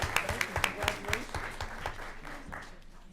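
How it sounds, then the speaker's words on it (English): Audience applause at a school board of education meeting, a burst of clapping from a room full of people that holds steady for a few seconds and then gradually thins out. "how about another round of applause for everybody?"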